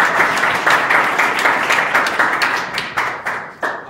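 An audience at a talk program applauds, a loud burst of many hands clapping in quick, uneven rhythm that swells and fades in several waves for a few seconds.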